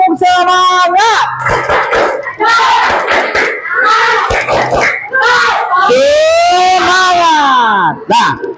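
Children in a fourth-grade classroom in Indonesia perform the spirit clap twice, bursts of patterned clapping mixed with loud chanting and a long rising-and-falling group shout, lively and close.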